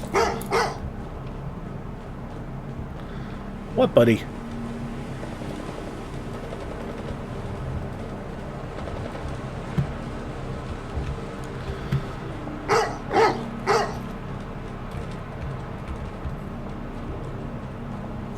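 Dog barking in the video game Fallout London, a few short sharp barks around the start and a quick cluster later, over a steady ambient game background with a brief spoken line.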